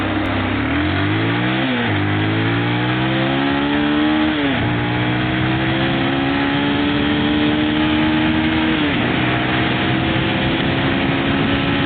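A Pulsar 200 DTSI motorcycle approaches from behind on a road and passes, its engine note rising and shifting in pitch through a few gear changes, loud and close throughout with constant road and wind noise.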